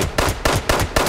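Rapid gunfire in the video game Fallout 76: four loud, close shots in an even, quick rhythm with no talk.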